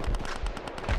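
Gunfire in the Payday 2 heist game, with a rapid burst of several sharp shots fired in quick succession, close and loud.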